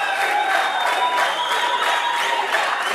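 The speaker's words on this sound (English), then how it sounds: "Spectators are cheering and celebrating" Spectators applauding and cheering at an ISSF shooting World Cup men's 10m air rifle event in Bhopal, India, a steady crowd wash of clapping with a faint raised-voice layer, continuous throughout.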